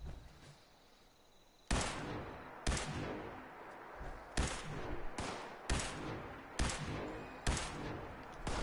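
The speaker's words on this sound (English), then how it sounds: "who the hell is shooting? Are they shooting at me?" Video game gunfire crackles in repeated sharp bursts, about six volleys spaced roughly a second apart after a quieter opening, loud and close with brief ringing tails between shots.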